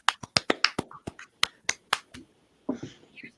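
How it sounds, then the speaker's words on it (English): Sharp, dry hand claps, roughly a dozen in quick uneven succession, close and distinct against a quiet background, with a brief soft rustle or murmur near the end. "Patrick is even clapping too"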